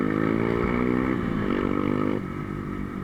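Bajaj Dominar 400 motorcycle on the road, a steady engine drone with rising and falling pitch as the rider accelerates and shifts, mixed with wind rush, close and continuous without talk.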